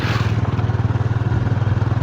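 A motorbike pulls away up close, its engine chugging loudly with a fast, steady pulsing throb and some rattling clatter throughout, with no voices over it.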